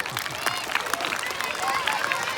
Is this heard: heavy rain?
no